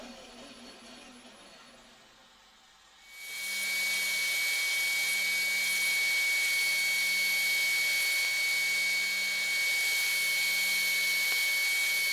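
A sander starts up after a quiet moment and runs in a loud, steady abrasive whir for the rest of the time, with no talking.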